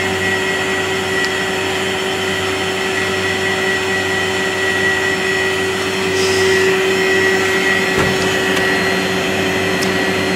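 A Candy P5.03 vacuum cleaner runs loud and close, set against an Aquaviva 1000, giving a constant roaring motor whine with a steady tonal hum and faint clicks and handling knocks over ten seconds, with no talk.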